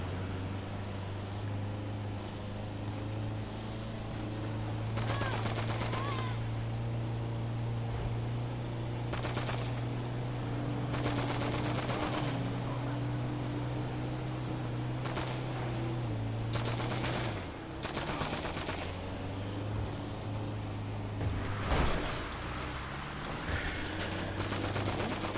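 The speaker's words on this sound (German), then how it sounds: "Ich habe nur in den Reifen geschossen, sonst habe ich nichts gemacht." Gunfire in GTA 5 aimed at vehicle tyres: repeated rapid bursts every few seconds cut through a constant droning engine hum, loud and close, with no talking.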